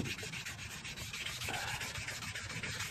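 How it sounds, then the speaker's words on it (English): Primer on an AE86 bodykit is wet sanded by hand, a steady rapid back-and-forth rasping scrub close to the microphone with no pauses. "I'm gonna sand it down."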